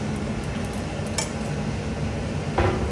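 Payasam with sugar, cardamom and nutmeg being stirred in a pot, a steady close scraping and swirling with occasional light metallic clinks of the spoon.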